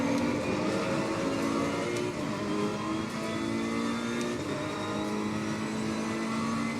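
A Ferrari 488 Evo GT3 race car in Assetto Corsa Competizione holds a steady, droning engine note at high revs, with subtle pitch shifts through gear changes and no talk over it.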